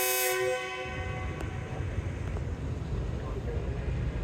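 A loud train departure horn blasts briefly at the start, then gives way to a steady low rumble of engines and distant rail noise, on a foggy morning in Lahore.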